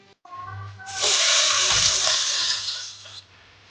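Whole cumin seeds and a couple of bay leaves hit hot oil for an echor chingri (green jackfruit with prawns) curry, bursting into a loud, hissing sizzle that holds for about two seconds before dying away.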